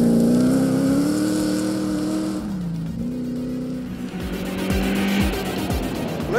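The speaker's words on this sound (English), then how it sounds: "Mike Civil having a run in the very impressive looking and sounding Capri Piranha" A Capri Piranha rally car on a stage of the Grimwade Rally accelerates hard, its loud engine climbing through the gears with a brief dip between shifts.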